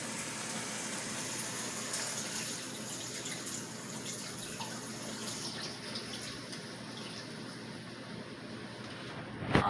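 Water pours steadily into a pot of pelau being cooked, a continuous close splashing gush lasting several seconds with no talking.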